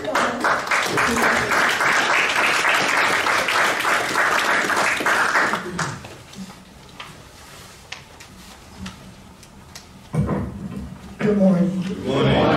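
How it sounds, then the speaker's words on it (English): Audience applause fills an academic ethics lecture hall for about six seconds, dense and steady, then fades into quieter room noise and a few stray sounds before a speaker's voice begins near the end. "please give a huge round of applause"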